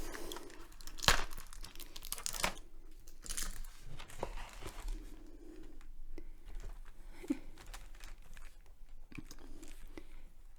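Close crinkling and tearing of a subscription box's packaging, with sharp rips and rustles in irregular bursts over a quiet background.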